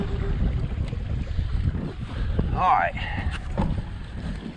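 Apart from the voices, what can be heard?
bass fishing boat running across the water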